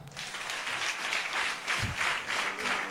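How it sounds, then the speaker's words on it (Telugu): Congregation at a Sunday church service claps in a loose, pulsing rhythm of swelling bursts, moderately loud, with a brief low thump in the middle and no speech. "చప్పట్లు కొట్టుదాం."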